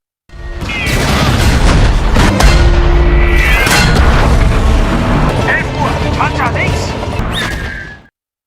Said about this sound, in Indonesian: Ledakan kedua menghantam udara, peluru Fury tepat mengenai sasaran.